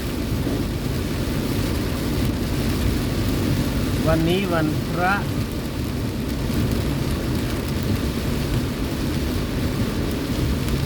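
Heavy rain pours in Udon in a constant dense roar, with a low rumble of thunder beneath it and someone speaking briefly over the downpour.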